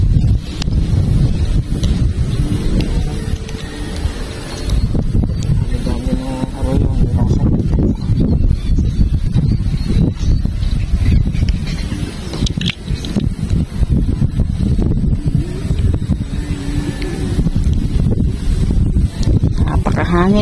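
Strong wind on an overcast day outdoors during airgun fishing buffets the microphone with a continuous loud, low roar, gusting throughout, while voices talk faintly underneath.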